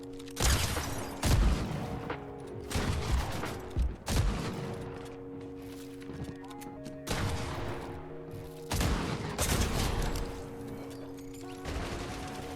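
Rapid video game gunfire during a player fight, repeated bursts of sharp shots in irregular clusters over a droning hum, with some building and impact sounds mixed in.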